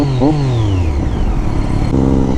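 A Dayton 675R superbike engine revs loudly and steadily up close, with pitch rising and dropping between gears on an off-road ride, no speech.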